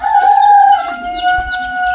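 A rooster crows once, loud and close, in a children's radio play, a bright sustained call that wavers slightly as it fades, with no voices over it.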